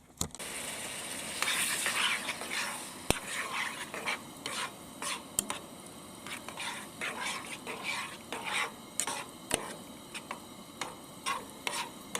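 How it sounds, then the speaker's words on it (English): Pieces of steak being stirred through and reheated in a pan over a camp stove at a creek campsite, with a steady sizzle under repeated scraping and tapping of a utensil against the pan, close by and continuous. "throw in the steak, stir it all through and bring it back to heat"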